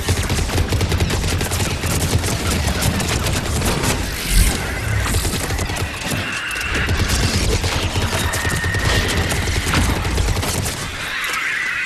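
Dense, continuous gunfire from a Mass Effect 3 multiplayer match: rapid bursts and overlapping shots that stay loud throughout, with a heavier boom near the middle and no talk over it.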